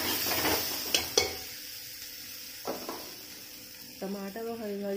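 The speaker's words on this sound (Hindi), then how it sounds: "अब हम इसमें डालेंगे अदरक का पेस्ट और फिर से चलाएंगे" Ginger paste being stirred into a frying aloo soyabean curry in a pan, with soft sizzling under scraping spoon strokes and a few sharp clinks against the pot, while a voice talks over it.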